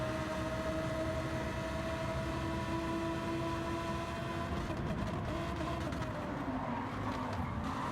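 Lamborghini race cars in a racing video game, engines droning steadily with a sustained tonal whine as one car runs up behind another down a straight; continuous, fairly close, no talk.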